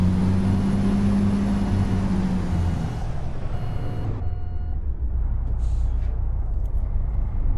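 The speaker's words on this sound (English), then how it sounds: "Listen to that engine" Freightliner Argosy truck in American Truck Simulator, its engine a steady low drone heard from outside, loud and continuous, with a faint high whine fading midway and a brief beep near the end.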